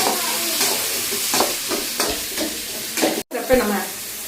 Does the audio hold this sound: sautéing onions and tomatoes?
yes